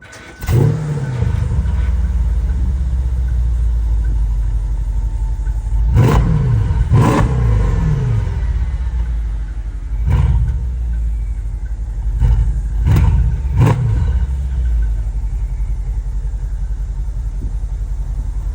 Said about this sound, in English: That's a pretty good exhaust, if you want to go ahead and take a listen.